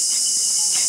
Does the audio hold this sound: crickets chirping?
yes